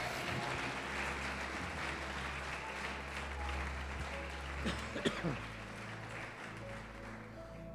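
A church congregation applauds during a sermon in a dense, continuous wash of clapping, with a few voices and a brief cough rising out of it.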